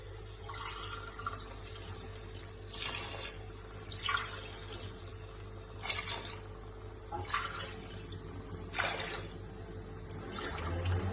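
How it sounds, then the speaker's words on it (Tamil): Water poured into a simmering mutton kulambu makes a soft, steady splashing and trickling that rises and falls in several gentle surges over a low background hum. "அடுத்து வந்து தண்ணி ஊத்திக்கலாம்."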